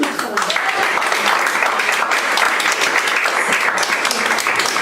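An audience applauds Monsieur Peach after his magic trick, a loud, continuous wash of clapping from a crowd with scattered sharper claps and some voices mixed in.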